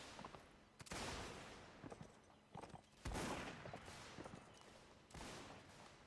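Musket volleys crackle in a Mount & Blade line battle with the North & South mod's Union Army, loose bursts of gunfire recurring several times at moderate distance over a steady battlefield din.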